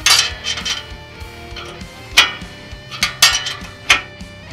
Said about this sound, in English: We'll use a 9/16 inch crescent wrench to do that.